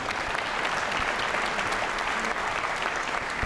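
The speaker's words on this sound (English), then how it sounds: "You can clap." Applause from the crowd at a Vietnam War Veterans Day ceremony in Barnegat, a dense, steady roar of clapping that stays loud and even from start to finish.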